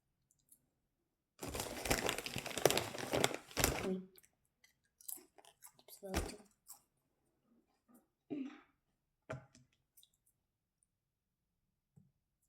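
A loud, rough ripping of tape pulled off a roll, followed by several shorter sticky tearing bursts and small handling noises, close by.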